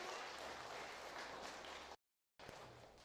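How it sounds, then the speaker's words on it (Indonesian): An audience at a village head candidates' debate claps for candidate number one, a dense burst of applause that cuts off abruptly, falls silent, then resumes more thinly, all heard at low level. "Tepuk tangannya."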